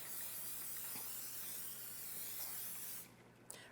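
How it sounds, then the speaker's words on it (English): Cooking spray hisses steadily from an aerosol can onto a 9x13 cake pan, one continuous close spray for about three seconds before stopping, followed by a faint click. "So I got a 9x13 pan. I'm going to spray that."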